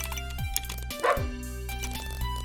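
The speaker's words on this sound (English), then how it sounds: "Bark, bark." A dog in the video game Half Past Fate gives a brief bark, a short yip over continuous game music.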